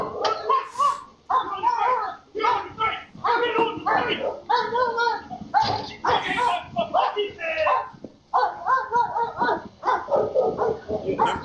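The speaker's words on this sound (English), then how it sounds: "Them dogs be blowing" Dogs bark repeatedly through a crowd of overlapping voices, the barks mixed into continuous loud talking.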